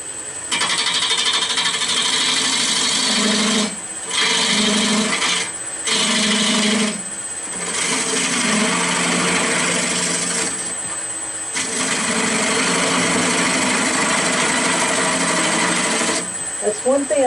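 A wood-turning tool cuts a spinning wooden baseball bat on a lathe, giving a steady, loud rasping scrape in several long passes broken by short pauses, with a brief knock near the end.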